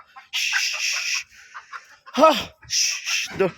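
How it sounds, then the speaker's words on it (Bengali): Chickens cluck and squawk up close in short, uneven bursts, with a couple of louder, throatier calls breaking in between. "ওরে মুরগি চলে আসছে"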